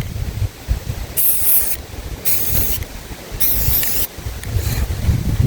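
Spray paint can hissing onto trailer rims in four bursts of roughly half a second each, separated by short pauses, loud and close over low background rumble.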